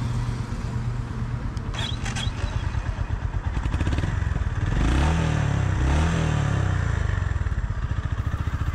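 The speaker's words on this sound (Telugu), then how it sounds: "అండ్ ఎగ్జాస్ట్ నోట్ కూడా చాలా తంబిగా ఉంది, ఇంప్రెసివ్." A Honda CB350 RS motorcycle idles and then revs. Its single-cylinder engine and exhaust note give a steady thumping beat that rises in pitch and loudness partway through, heard close and loud with no talk.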